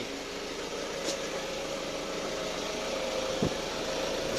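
A car engine idles steadily after being jump-started from a supercapacitor instead of its battery, giving a continuous mid-range hum with a couple of brief clicks or knocks, fairly close and with no one talking.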